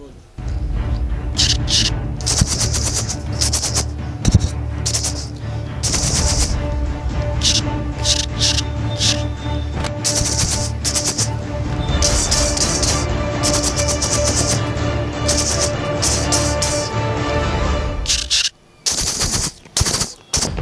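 A boy in Azamgarh imitates machine-gun fire with his mouth, a rapid, loud, continuous stream of rattling bursts lasting about twenty seconds, broken by a few short gaps near the end.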